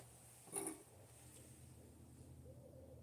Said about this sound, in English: I can't really explain what I just heard, so owl sounds reasonable. Or a couple of owls.